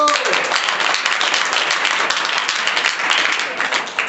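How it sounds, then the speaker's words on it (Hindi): Students in a classroom fractions lesson clap together, a close, loud and steady mass of hand claps sustained for about four seconds before easing slightly at the end. "ताली बजा दो"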